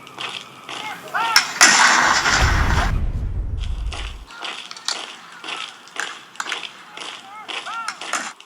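A cannon fired at a Shays' Rebellion reenactment goes off as one loud, deep boom that rumbles for a couple of seconds, followed by scattered clatter and outdoor bustle with voices.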